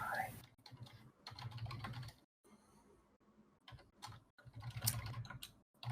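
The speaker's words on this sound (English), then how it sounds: "That was a lot of typing." Rapid typing on a computer keyboard in bursts of quick clicks, fairly quiet and close, broken by short pauses, with faint voices murmuring underneath.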